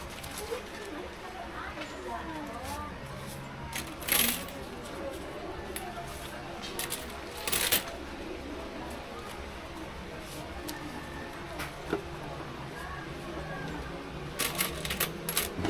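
Coins are dropped and placed into a container at a small shop, producing scattered metallic clinks and jingles in brief bursts, mixed with people talking and background clatter.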